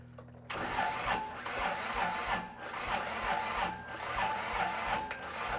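Kubota F2650 tractor engine that sat unused for five years, cranking over sluggishly with a rhythmic, laboring starter churn that rises and falls, close and fairly loud, with no talking.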